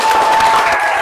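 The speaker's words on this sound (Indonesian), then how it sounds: "Beri tepuk tangan untuk temanmu." A classroom of children clapping for a classmate, a brief, dense burst of loud, even applause close by with no talk over it.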